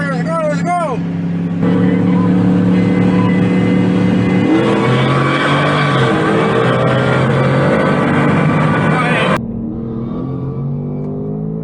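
A 2024 Ford Mustang drag races a truck, with loud engines roaring and revving steadily together at close range for several seconds before cutting off abruptly; voices sound briefly at the start.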